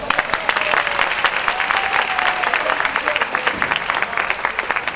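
Loud, dense audience applause rings out at a French stand-up comedy show, sustained and crowded throughout with a faint voice underneath.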